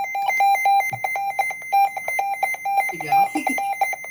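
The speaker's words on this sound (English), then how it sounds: "So here's the alert test." Alert test tone from a Midland WR120 weather radio: a loud, steady train of rapid electronic beeps repeating throughout, with a person briefly talking near the end.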